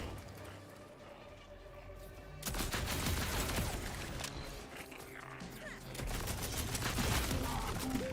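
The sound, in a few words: shotgun firing in video game Borderlands 4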